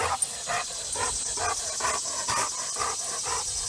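Dogs in a yard panting rapidly in rhythmic bursts, close by and moderately loud, with a brief yelp near the start.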